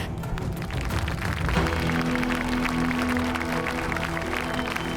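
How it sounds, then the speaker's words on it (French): A crowd applauds a couple, steady dense clapping that holds at an even loudness throughout, with music playing underneath. "Applaudissez-les."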